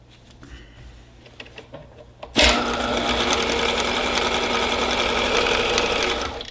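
A sewing machine starts abruptly after a couple of seconds of quiet handling clicks, then runs loud and continuous, stitching fabric triangles on a hot pad.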